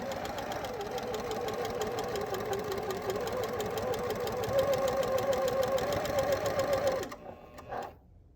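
A sewing machine with a ditch foot stitches in the ditch along a seam line on bias-cut quilt fabric, a steady, fast, close whirring rattle running without pause for about seven seconds before it slows and stops.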